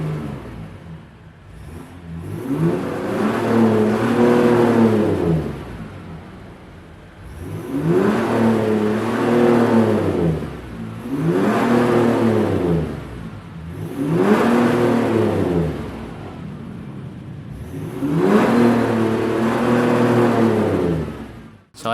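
A Jeep Grand Cherokee with air suspension revs its engine five times in a row, each long rise and fall loud and close, with brief idle dips between.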